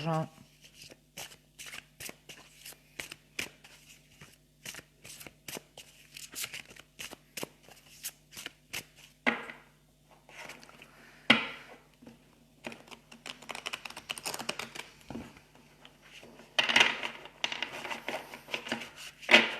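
Tarot cards are shuffled for a reading, with crisp, rapid riffling and flicking bursts close up, starting sparse and then thickening in clusters, while a voice talks intermittently.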